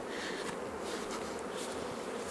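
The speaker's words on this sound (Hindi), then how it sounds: "बहुत ही ज़्यादा उड़ रही हैं मधुमक्खियाँ" Dense, steady swarm of honey bees buzzing around rows of wooden beehive boxes at an apiary, a continuous close hum with no talking.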